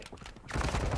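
Gunfire in Call of Duty DMZ, a dense burst of rapid shots that erupts suddenly after a quieter start and carries on loud and close to the end.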